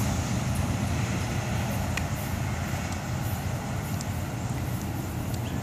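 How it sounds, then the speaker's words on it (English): An FEC freight train with locomotive #1613 rumbles past close by, a steady, heavy low roar with rattling wheels on the track, continuous throughout with no talking. "Very, very nice train."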